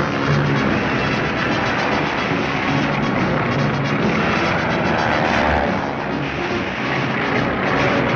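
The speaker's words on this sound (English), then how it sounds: "During maneuvers, pursuit planes engage each other in aerial games." Propeller fighter planes in a vintage Looney Tunes army cartoon drone and roar continuously through mock aerial combat, a loud, dense engine wash holding steady throughout.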